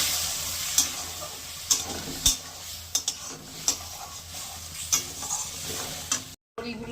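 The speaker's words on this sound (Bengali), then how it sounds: "এবার কষিয়ে নেবো ভালো করে" Spices stir-fried with salt, turmeric and a little sugar in a pan for an eggplant and bori curry, a loud sizzle punctuated by regular sharp metal spatula scrapes and knocks.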